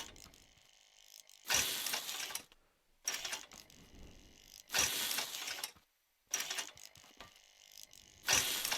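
Welding in the video game Scrap Mechanic produces four quiet, evenly spaced bursts of crackling, ratchety mechanical noise, each lasting about a second, separated by near silence.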